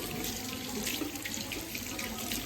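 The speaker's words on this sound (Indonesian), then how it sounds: "Memastikan air mengalir." Water runs steadily from a tap for handwashing during a surgical skills demonstration, a constant close splashing hiss that stays even throughout with no talk.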